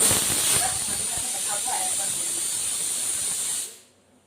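A pressure cooker cooking mutton biryani lets off steam in a loud, close hissing whistle that holds steady for several seconds and then cuts off abruptly.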